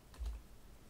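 A few quick keystrokes on a computer keyboard in a quiet room, a short cluster of soft taps and then near silence, with no talking.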